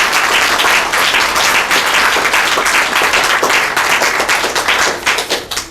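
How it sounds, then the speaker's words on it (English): Sustained audience applause fills a graduation ceremony hall, dense and loud throughout with steady clapping from many hands and a faint murmur of the crowd beneath. "can we give him another round of applause"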